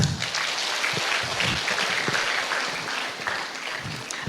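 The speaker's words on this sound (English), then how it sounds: "I think you should clap." An audience at a live guest talk at Alva's Rostrum Club claps, a continuous moderate wash of hand claps with a few louder individual claps standing out, heard from within the hall.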